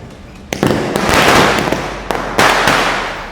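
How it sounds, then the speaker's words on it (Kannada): A string of firecrackers goes off during Diwali celebrations, several sharp loud bursts and crackling pops in quick succession with a rolling rumble between them. "ಹೆಂಗೋ ಲಾಸ್ಟ್ ಸರ ಪಟಾಕಿ."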